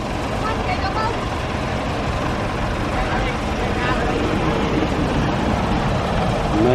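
Massey Ferguson 290 tractor engine running steadily beside a river while moving and carrying rice paddy, a continuous broadband rumble at constant level with no breaks.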